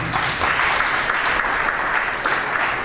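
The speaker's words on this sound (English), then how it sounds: "Can you give us a round of applause?" Loud, dense applause from a large audience, steady throughout the short burst.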